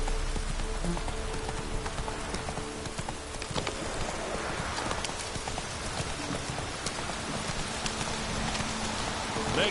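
Roach, a horse in The Witcher 3 video game, gallops with steady clip-clop hoofbeats close by, over a dense background of rain-like hiss, with a brief voice near the start.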